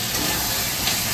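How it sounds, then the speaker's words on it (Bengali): Meat and spices fry in a pan for a masala, giving a loud, continuous hiss without pause. No one speaks. "মশলাটা কষাচ্ছি"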